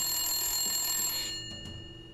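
An old-fashioned telephone bell rings loudly with a sustained metallic jangle that stops partway through, leaving faint room noise.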